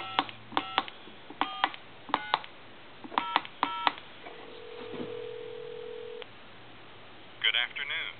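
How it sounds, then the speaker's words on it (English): Touch-tone DTMF digits are dialed on a military TA tactical telephone connected to a real phone line, calling a time and temperature number: about ten separate crisp beeps in uneven groups, then a steady ringback tone, and a recorded voice answers at the end. "I'm going to dial time and temp"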